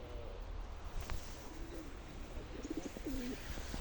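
Soft, low pigeon coos repeat a few times against steady outdoor background noise in Kharkiv, Ukraine.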